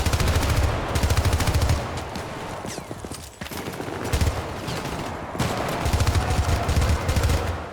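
Loud, close gunfire from the 2012 shooter game Syndicate: long rapid-fire automatic bursts broken by short pauses, with no talking over them.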